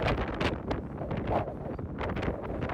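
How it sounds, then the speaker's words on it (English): Wind gusts buffet and roar across the exposed pedestrian walkway of the Brooklyn Bridge in New York, a continuous, fluttering rush close to the microphone. "It's really windy up here."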